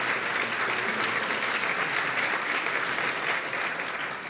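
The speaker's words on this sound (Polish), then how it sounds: "Wielkie brawa dla specjalnych gości Gali" A gala audience in Barlinek gives steady, dense applause for special guests at a 2016 event before the Rio Olympics, a loud continuous clapping that runs throughout and tapers slightly at the end.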